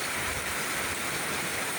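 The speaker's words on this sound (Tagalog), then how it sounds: "Ang lakas ng ulan." Heavy rain pours down in Northern Samar, a steady, dense broadband hiss with no breaks, close and continuous throughout without any voices.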